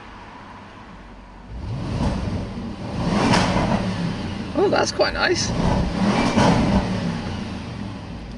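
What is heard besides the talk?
Audi S8 Plus engine revving in a tunnel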